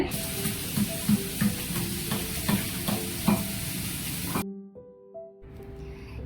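Masala fish fry sizzling in a pan, a dense crackling hiss with rhythmic clattering stir or flip strokes, then cutting off abruptly to quieter background with faint tonal sounds.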